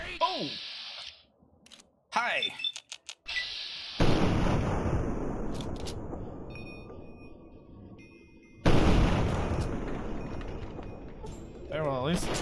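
A land mine blows up in Fallout 3, one loud booming blast whose rumble decays over several seconds, followed by a second burst, with scattered game noises and talk around it.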